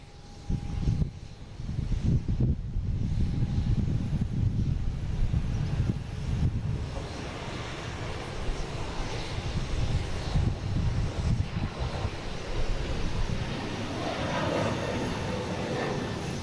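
An Airbus A321neo airliner departs Boston Logan airport. A deep, rumbling jet roar builds from the start, then holds as a broad, steady roar with some wind buffeting, and fades slightly toward the end, with no talking.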